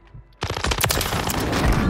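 Rapid automatic gunfire from the video game Call of Duty bursts in after a brief quiet moment, then continues as dense, loud, overlapping shots to the end.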